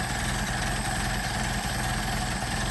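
A Mercedes 190SL engine idles on Solex 44PHH carburetors, a steady, loud, low rumble with an even pulsing beat and no voices.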